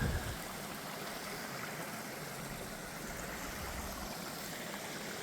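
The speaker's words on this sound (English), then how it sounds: "Running water all night." A small hill stream runs steadily near a wild campsite in the Shropshire Hills, a soft continuous babbling rush heard alone at moderate distance, unchanging throughout.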